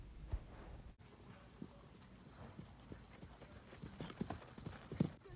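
Hooves of an eight-year-old warmblood mare clip-clop steadily under a rider, the footfalls soft and fairly close, with a few firmer hits near the end and faint background noise throughout.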